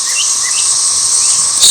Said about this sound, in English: It is one cicada that makes a different sound from the rest of them